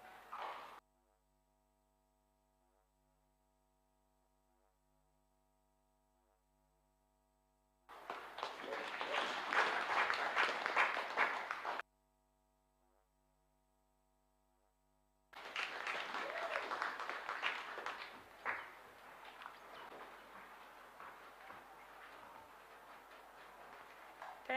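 Two bursts of audience applause at a university graduation ceremony, each several seconds long and separated by near-silence with a faint hum, the second burst longer and tapering off.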